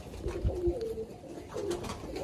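Pigeons coo softly in a loft, low repeated murmurs close by with faint background rustle and no talk.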